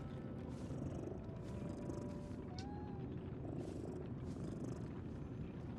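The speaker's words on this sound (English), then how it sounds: "Oh, a kitty cat." A cat purring steadily in the video game Lies of P, a low continuous rumble held at a constant level throughout, with no talking over it.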